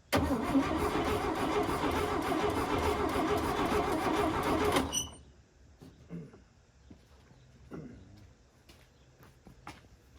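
A 1956 Chevy 210 engine, sitting unused for 25 years, cranks steadily and loudly for about five seconds without catching, then cuts off, leaving quiet clicks and soft talk.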